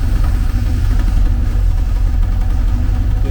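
A 1979 Porsche 924 engine idles steadily up close, a loud, continuous low rumble with an even, smooth throb and no break, and no voices over it.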